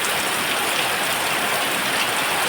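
Heavy monsoon rain falls at night in a dense, unbroken roar that stays loud and even throughout, with no voices and no thunder.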